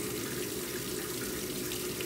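Water rushes steadily through a hydraulic bench feeding a Pelton turbine test rig, a constant loud broadband flow without pauses or talk.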